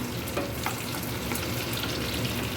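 Chicken do pyaza frying in oil in a home kitchen, a continuous close sizzle with occasional stirring clicks and scrapes.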